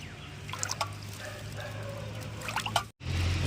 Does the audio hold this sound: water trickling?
yes